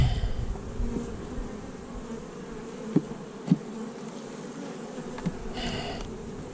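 Honey bees hum steadily around hive frames lifted out during an inspection, a continuous close buzz with a few louder passes as individual bees fly near.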